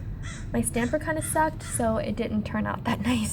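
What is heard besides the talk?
crow cawing overhead outdoors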